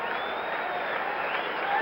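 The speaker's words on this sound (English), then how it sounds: "Now the crowd starting to build its applause" A stadium crowd at a 1977 World Series game between the Yankees and Dodgers applauds, a steady, distant wash of clapping and crowd noise that grows slightly louder toward the end.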